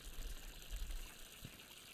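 Water runs from a tap in Untitled Goose Game, a faint, continuous gushing fill with small low surges, quiet and alone without any voices.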